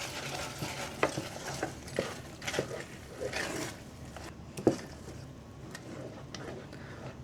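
Cheeses being stirred together in a pot for homemade mac and cheese, a close wet scraping and stirring with occasional clinks of the utensil against the pot.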